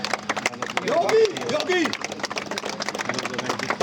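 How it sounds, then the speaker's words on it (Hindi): A crowd at a cricket match prize ceremony claps steadily in dense, continuous applause while someone speaks loudly over it. "जोरदार तालियां दुष्यंत के लिए और आज का स्टार तालियां योगेंद्र के लिए।"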